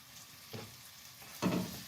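Potatoes tipped into a pan of softened onion, a faint sizzle broken by two soft thuds and stirring scrapes, the second louder, with no talk.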